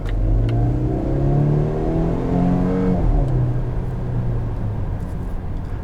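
A 2019 Volvo S60 T6 R Design AWD sedan engine accelerating hard, its loud rising drone climbing steadily through a gear change near the middle, heard from inside the cabin with no talking.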